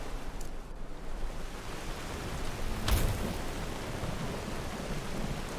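Rain falls steadily in Skyrim Survival Mode, a dense, even hiss with a brief rumble of thunder near the middle and no voices.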